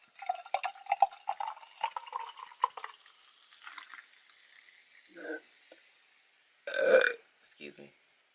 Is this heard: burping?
yes